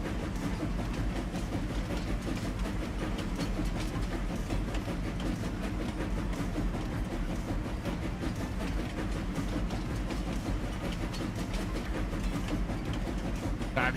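A train running in Farming Simulator 25, heading across a viaduct on a rustic highlands map, makes a steady, loud, unbroken rumble with a dense rolling drone that holds level throughout and has no voices over it.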